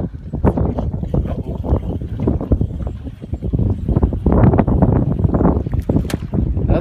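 Gusty wind buffets the microphone on a lake while fishing from a boat, a loud, continuous rumbling roar with choppy bursts and water slapping, close and dominant throughout.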